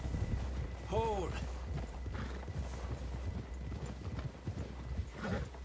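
Horse hooves clip-clop steadily in the Red Dead Redemption 2 video game, with a short whinny near the start, over a constant low rumble of game ambience and background voices.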